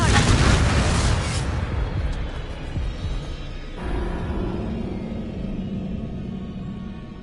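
Confringo fire-spell blast in the Hogwarts Legacy video game: a loud, broad explosive burst at the start that decays into a rumbling, crackling tail, with a second softer impact partway through.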